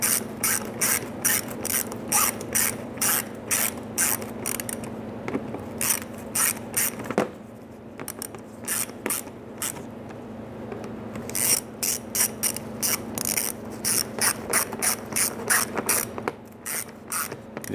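Close, crisp ratchet clicking in quick bursts as fasteners are snugged down on the radiator of a 2005-2010 Chrysler 300, with a brief pause midway and no talking.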